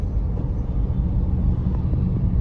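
Steady, loud road-traffic rumble on a street in Manila near Buendia, a dense low engine drone with no distinct passing vehicles and no speech.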